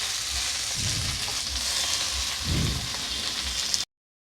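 Steady oily sizzling of water spinach greens and potatoes frying in oil fills the clip, with a couple of soft stirring swishes partway through.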